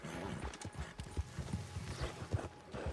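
Horse hooves clip-clop steadily at a walking pace in the video game Red Dead Redemption 2, a close, rhythmic series of dull thuds that continues throughout with no talk over it.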